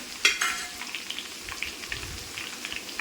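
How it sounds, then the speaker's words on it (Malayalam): Small onions (shallots) frying crisp in hot oil for a ginger pickle, a soft, steady sizzle with light crackles and one sharper spatter near the start, fairly quiet and close with no voices. "ആ ചെറിയ ഉള്ളി നന്നായിട്ട് മൂക്കണം"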